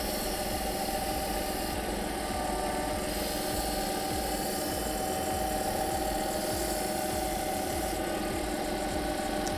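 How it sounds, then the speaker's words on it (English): Electric sander running steadily as it lightly sands linen, a continuous buzzing motor drone with a rough vibrating texture, close and loud throughout with no talk. "I'm just going to lightly sand it."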